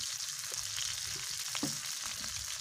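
Fish fries in plenty of oil with bay leaf and chopped onion, a soft, steady sizzle and bubbling with a few faint stirring touches, fairly quiet and without talk.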